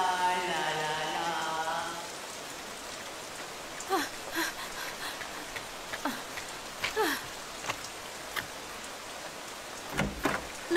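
Steady rain falls outside a house in an animated Doraemon cartoon, a continuous moderate hiss with scattered drip-like taps. A brief tonal voice hum fades out near the start.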